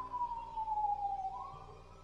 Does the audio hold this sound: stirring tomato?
no